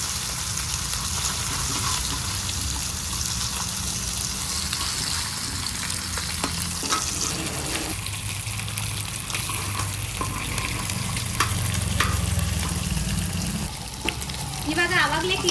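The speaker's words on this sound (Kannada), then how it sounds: "ಕ್ಲೀನಾಗಿ ಎಣ್ಣೆಲ್ಲೇ ಬೇಯಿಸ್ಕೋಬೇಕು ಇದನ್ನ." Fish pieces fry in oil on a flat tava, giving a steady, close sizzle with occasional scraping and stirring noises throughout.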